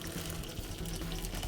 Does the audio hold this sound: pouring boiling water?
yes